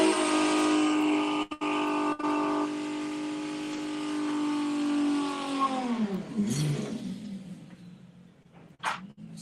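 Drag racing car launching on nitrous at a club drag meeting: a loud rising engine roar with strong harmonics that climbs, then sweeps down and fades as it pulls away into the distance.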